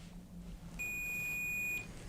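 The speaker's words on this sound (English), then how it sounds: "I'll get a beep letting me know that my cable is good." A multimeter on continuity test sounds one clear, steady electronic beep lasting about a second as its probes touch both ends of an alligator clip cable, alone over a low background hum.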